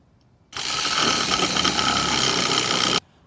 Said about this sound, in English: I'm just going to use my jigsaw here